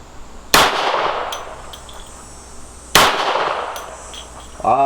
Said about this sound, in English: There's 3 shots so far.